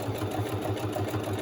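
A sewing machine runs at steady speed with its needle jumping, making a fast, even, mechanical thrumming pulse up close throughout.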